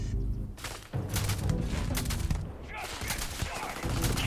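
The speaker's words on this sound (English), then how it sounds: "Sniper rifle." Rifle fire cracks in the Starfield sci-fi game during a sniper rifle fight. Several loud, sharp shots land at uneven gaps over about four seconds, with a voice briefly talking between them.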